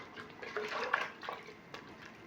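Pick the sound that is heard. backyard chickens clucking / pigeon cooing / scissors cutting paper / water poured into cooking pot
water poured into cooking pot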